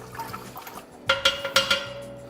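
Hot wort stirred in a 10-litre BrewKeg home-brewing kettle, with soft sloshing followed by several louder splashy swirls of liquid close by, no voices.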